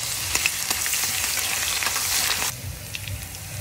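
Green chilies and garlic sizzle steadily in a hot pan, a bright continuous frying hiss that softens partway through, close and alone without talk.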